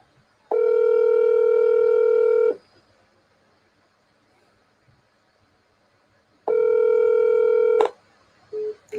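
Two long electronic phone ringback tones sound loud and steady, each lasting about two seconds with a pause between, followed by a short clipped start of another tone, during a football match watchalong.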